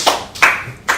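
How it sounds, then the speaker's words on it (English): Hands clap three times in a slow, even rhythm, loud and close, with no talk over them. "Now we clap first before I start."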